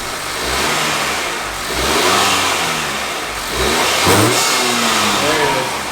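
A 2018-2021 Honda Accord engine with a PRL high-volume aftermarket intake revs up repeatedly in three throaty surges toward 3,000 rpm, dropping back to a rough idle between each, loud and close.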